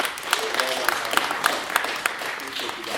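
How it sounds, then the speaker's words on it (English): An audience claps at a tech conference talk on open source AI, giving a steady wash of applause through the whole stretch with a few sharper claps standing out. "just another round of applause for the volunteers, for Simon and his team, for the organizers."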